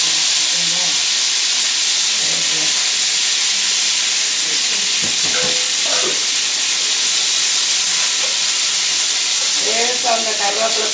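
Fresh curry leaves hit hot oil with a couple of chillies in a pan for vegetable avial, giving a loud, steady hiss and spluttering sizzle across the whole stretch, with faint voice fragments underneath.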